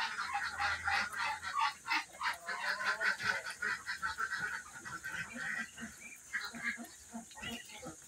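Muscovy ducklings at feeding time give a dense chorus of rapid honking, peeping calls, continuous and close with overlapping voices throughout.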